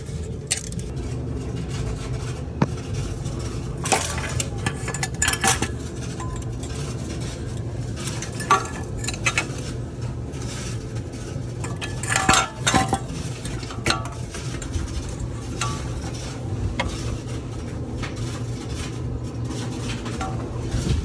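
Metal clinks and scrapes of a wrench loosening a 27mm oil tube fitting on a 2006 Jetta TDI diesel engine, a few sharp metallic clicks over steady low background noise, no talk.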